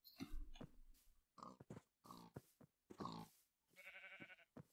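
Pigs in the video game Minecraft grunt and oink in a series of short, close bursts separated by brief pauses, with no voices over them.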